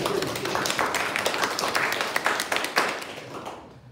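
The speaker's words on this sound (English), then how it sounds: "put your hands together and applaud the United Reformed Church" An audience at a United Reformed Church gathering claps for several seconds, a dense patter of many hands with sharper individual claps that starts to thin out toward the end.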